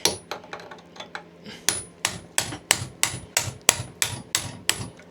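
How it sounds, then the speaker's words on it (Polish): Steady, ringing metallic strikes of a hammer on a chisel cutting a transformer's copper, about two blows per second, close and sharp, with no talking. "Wezmę młotek i przecinak."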